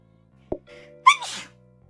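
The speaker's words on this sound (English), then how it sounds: "I'm going to sneeze." A single sneeze, a sharp breathy intake followed by an explosive burst, close and clear in an otherwise quiet room.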